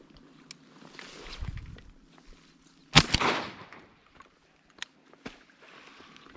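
A single sharp, loud shotgun blast fired at a mallard hen while duck hunting on small public-land water, standing out over quiet outdoor background with a few faint clicks and rustles around it.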